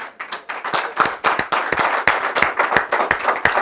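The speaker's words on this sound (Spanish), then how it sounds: "den un aplauso a Cristo" A church congregation claps for a few seconds, with close, fairly loud, roughly rhythmic hand claps and no talking.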